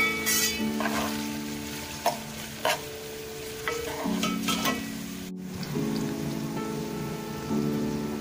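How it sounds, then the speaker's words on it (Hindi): A large sliced onion fries in oil in a pan, with a steady sizzle under clinking and scraping stirring strokes, close and moderate in level, with no talking. "ये ऑयल के अंदर हमने एक बड़ी प्याज जो है ये स्लाइस करके डाली है, अब इसको फ्राई करेंगे।"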